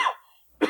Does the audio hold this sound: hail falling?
no